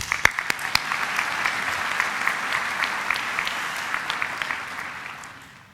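A hall audience at a university graduation ceremony claps in a sustained round of applause, dense and even with a few sharp nearby claps, fading out toward the end.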